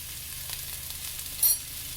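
An omelet frying in an oiled pan, giving a steady close hiss with faint crackles and one brief sharper sizzle partway through, no voices.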